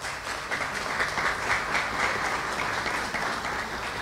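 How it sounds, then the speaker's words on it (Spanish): An audience at an award ceremony applauds an honoree, dense, sustained clapping from many people at even, moderate loudness for the whole span. "Zapata, en la categoría Compromiso Social, a quien pido un aplauso"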